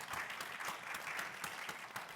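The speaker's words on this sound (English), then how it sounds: "everyone can just give a round of applause for our great panel" An audience at a VidCon gaming panel claps in a brisk, even round of applause, dense and steady, heard from a slight distance without speech over it.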